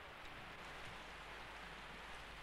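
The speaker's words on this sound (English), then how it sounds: "the incessant ticking of a clock in the first shot is replaced by the sound of rain in the second." Rain falls in a scene from Béla Tarr's film Sátántangó as a faint, even wash of broadband hiss. It continues steadily with no voices.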